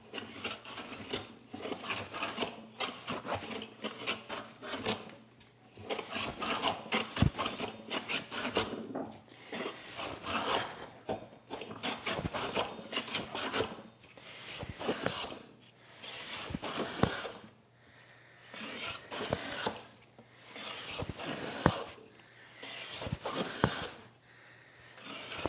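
A hand plane fitted with a high angle blade shaves wood in repeated rasping strokes, each push a soft scraping burst separated by short pauses, close and fairly quiet.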